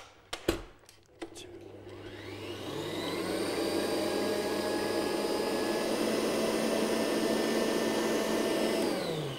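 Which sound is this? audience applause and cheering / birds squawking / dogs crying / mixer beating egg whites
mixer beating egg whites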